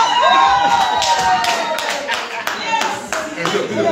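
Audience applause at an installation ceremony for a Pensée Patriotique bureau in Paris, loud bursts of clapping with some crowd noise and voices mixed in, rising and falling over several seconds.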